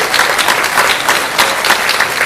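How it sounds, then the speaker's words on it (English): A crowd at a middle school chorus concert gives loud, sustained applause, with dense clapping throughout and a few cheers rising and falling. "give him the big round of applause."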